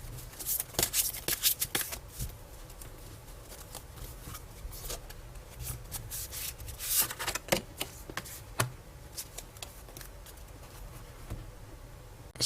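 Tarot cards shuffled by hand close up, quiet rapid riffling and flicking in irregular bursts with soft slaps between them, no voice.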